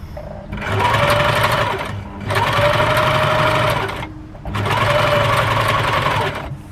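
A sewing machine quilts fabric in three separate loud runs of fast, even stitching, each lasting about one and a half seconds with short pauses between, close up.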